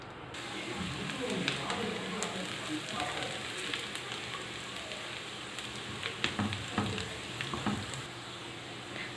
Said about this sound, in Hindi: इस प्याज को हमें ब्राउन करना है,